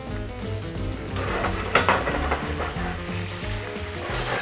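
Shrimp and garlic fry in a hot pan with a steady close sizzle, and a brief scraping clatter comes as the pan is moved. Music plays faintly underneath.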